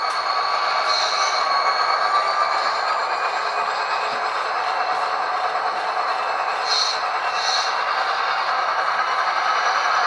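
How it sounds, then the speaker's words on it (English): Rapido F40PH2D model diesel locomotive sound decoder notching up its throttle, a loud steady engine drone with rattling, metallic texture that holds level throughout, with a few brief higher tonal accents. "we're slowly going to notch it up by turning the throttle up"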